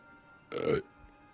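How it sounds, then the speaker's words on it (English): A single short, throaty burp from a streamer who has been drinking beer, rising clearly above a quiet background and lasting well under half a second. "And there's the burp, me hearties."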